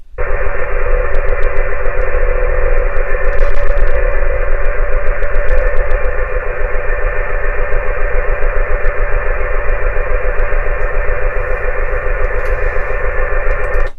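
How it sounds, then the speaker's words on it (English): A Navtex maritime data broadcast picked up on 517 kHz with a Yaesu FT890 receiver plays as a loud, unbroken warbling digital tone over radio static for the whole stretch, with no voice. "This is Navtex that I received on 517 kilohertz, so technically medium wave, long wave range, but this is what it sounds like."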